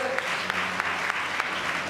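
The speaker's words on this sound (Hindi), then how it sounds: "ताली मार दो सुनील जी की, जोर से" Loud applause fills the room at a short film release event, steady clapping from a seated audience with sharp individual claps standing out throughout, no talk over it.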